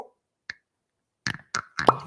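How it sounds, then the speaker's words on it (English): Synthetic cork popping from a whiskey bottle: one crisp, close pop after a few faint clicks of handling, in an otherwise quiet setting. "It's got a synthetic cork. It's a nice little pop on it."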